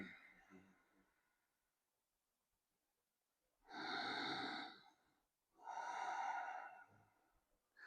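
Slow, deliberate breathing during a manual neck, upper shoulder and scapular mobilization: two long, airy breaths heard up close, separated by near silence.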